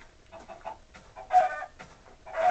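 Chickens clucking in Minecraft, a few short close clucks in bursts over a couple of seconds, with no talk.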